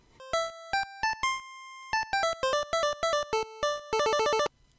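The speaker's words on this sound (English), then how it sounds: "The first two voices can only produce square waves that sound like this." An NES sound chip plays square-wave tones in a quick, bright chiptune melody: a string of short beeping notes with a held note and a fast trilled run near the end, loud and clean with no voices.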